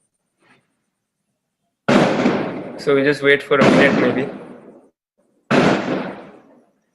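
Firecrackers and fireworks burst outside during Diwali-style celebrations, loud crackling volleys in several bursts with a pause between, someone speaking briefly between them.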